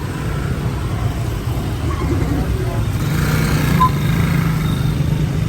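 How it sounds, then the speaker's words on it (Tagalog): Dense motorbike traffic streams along a busy Ho Chi Minh City street at night, a constant loud drone of many small engines with passing hums, under a busy urban background. "Parang hindi nauubos yung motor."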